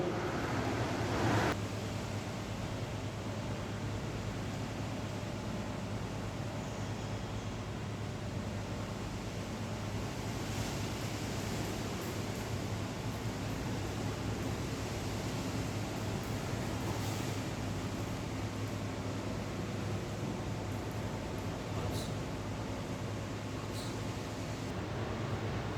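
An aerator feeding oxygen through an IV set to tissue in a bioassay lab setup, giving a constant, even hiss and hum that runs unchanged throughout, with no talking.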